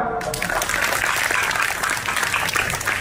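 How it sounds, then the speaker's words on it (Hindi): Audience applause fills a school Model United Nations inauguration hall, a dense steady wash of clapping that starts abruptly and holds at an even, fairly loud level throughout. "ताली बजाओ."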